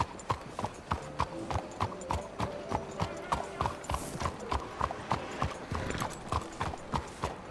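Steady clip-clop of horse hooves at a walking pace at night in the game Red Dead Redemption 2, regular and fairly close, with a faint musical backdrop underneath.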